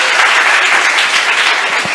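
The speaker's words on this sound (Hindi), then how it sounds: "अगर प्रस्तुति पसंद आई हो तो फिर से तालियां बजाइए।" An audience claps steadily at a Hindi Diwas poetry recital event, a dense, loud, continuous wash of applause for the full two seconds.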